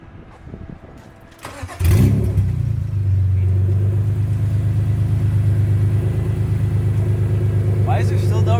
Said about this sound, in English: we're gonna drive it outside on its own power